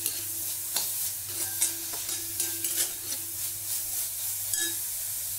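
Onion, green chillies and garlic sautéing in a pan for a coconut chutney: a continuous close sizzle with irregular spatula stirs and scrapes, and no talking.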